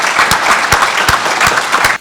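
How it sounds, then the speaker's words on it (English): Loud, continuous applause from a conference audience, a dense wash of clapping with a few sharper individual claps standing out, cutting off abruptly at the end. "I think it's really important that we give them a round of applause"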